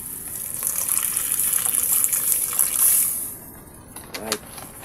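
A glass of water gushes steadily into a cooking pan for a few seconds, a loud broad rush that tapers off, followed by a brief clink and splash.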